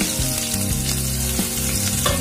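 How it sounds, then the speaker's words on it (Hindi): Chopped onion frying in hot oil with whole garam masala, giving a loud, dense, continuous sizzle with bubbling crackle close by and no voices. "इन्हें गोल्डन होने तक फ्राई करेंगे।"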